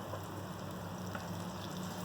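Ginger garlic paste and spices sizzle in a pan, a soft, even frying hiss that stays steady throughout with no speech.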